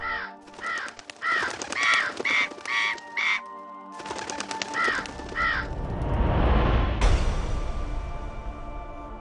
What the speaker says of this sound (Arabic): كان هناك غرابان مشتبكان في صراع دموي عنيف